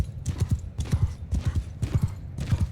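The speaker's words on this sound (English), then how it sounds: "I'll go ahead and get my horse running right directly into them" A horse gallops in Mount & Blade II Bannerlord, rapid clip-clop hoofbeats in repeating bursts, close and fairly loud, with no talk over them.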